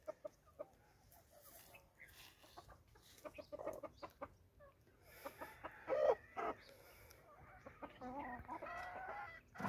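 A hen sits on her chicks, giving soft low clucks and murmurs close by, mixed with faint high chick peeps and some rustling, quiet overall with occasional slightly louder clucks.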